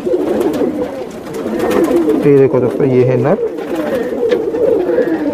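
Kalanch pigeons cooing, a pair of low throaty coos rising up close while someone talks over them in a pigeon loft in Vikroli, Mumbai.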